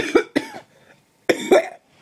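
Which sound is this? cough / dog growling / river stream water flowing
cough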